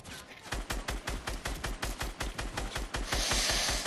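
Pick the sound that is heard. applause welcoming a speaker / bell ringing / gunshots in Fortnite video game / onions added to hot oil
gunshots in Fortnite video game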